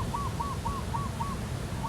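A bird repeats a short, clear call about five times in an even rhythm over a steady background roar of large ocean surf.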